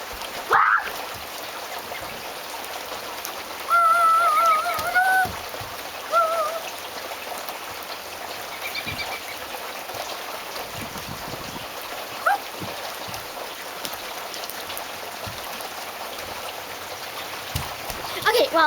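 Rain falling outdoors makes a steady, even hiss that runs throughout, with a few faint scattered sounds over it.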